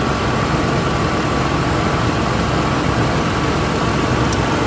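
A Lexus engine with a cable-driven throttle body idles steadily up close: a constant, even rumble with a faint, thin whine running through it and no talking.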